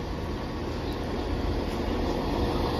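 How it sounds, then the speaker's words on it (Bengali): A train passing at Peterborough gives a steady, dense roar and rumble that holds at an even loudness for the whole stretch, close by, with no voices. "পিঠাবড়া ট্রেন।"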